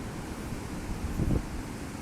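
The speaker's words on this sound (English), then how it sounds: "really windy out here tonight." Wind howls around a teepee-style tent at night in winter, a low, rough rumble buffeting close to the microphone and rising in a brief gust midway.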